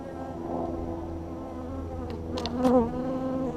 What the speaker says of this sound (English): Got some couple black bees in here.